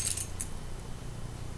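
A bunch of keys held together on a key holder jangles in a brief metallic burst, close and clear, then quickly settles into quiet.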